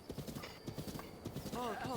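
A horse in The Legend of Zelda: Breath of the Wild trots with a steady clip-clop of hooves, close and moderately loud, then gives a short whinny near the end.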